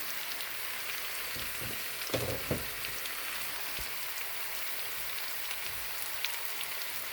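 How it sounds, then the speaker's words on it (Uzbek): Potatoes fry in a pan, giving a steady, quiet rain-like crackle throughout, with a couple of soft thumps from stirring near the middle. "Qovurilyapti, chiroyli bo'ldi."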